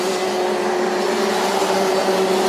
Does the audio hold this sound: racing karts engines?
yes